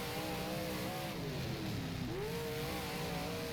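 Big block modified race car in rFactor at the Utica Rome oval, its engine roaring loudly under acceleration, then briefly dipping before the pitch sweeps upward again after a shift.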